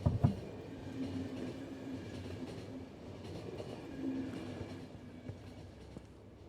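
Train running in the video game Final Station, a steady low rumbling drone with faint rhythmic clatter, a brief bump at the start and a mild swell midway, no voices.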